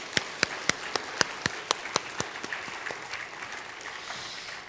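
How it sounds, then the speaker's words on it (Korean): A church congregation claps for children and the choir at a Chuseok Sunday worship service: about ten sharp, evenly spaced claps ring out close and clear, then thin into a faint scattered patter. "우리 다시 한번 격려의 박수 해 주시죠"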